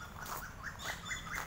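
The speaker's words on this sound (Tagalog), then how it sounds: "Mga ibon oh, maingay." Small birds chirp outdoors on a farm garden during an afternoon jog, with several faint, quick tweets scattered over soft background noise.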